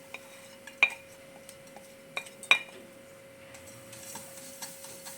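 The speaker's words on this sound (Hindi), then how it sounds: "अभी मैं कढ़ाई में थोड़ी गुड़ डाल रही हूँ।" Jaggery goes into a kadhai pan during home cooking for a cough and cold remedy. A few sharp metallic clinks and taps of utensil on pan ring out over a steady low hum, with no talking.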